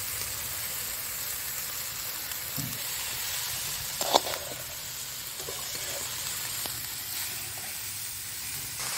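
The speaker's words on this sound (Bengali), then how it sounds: "এবারে বাঁধাকপিটা দিয়ে দিচ্ছি।" Cabbage added to a hot pan with a large katla fish head, a soft continuous sizzle and hiss with a few brief clinks and stirring knocks, no talk.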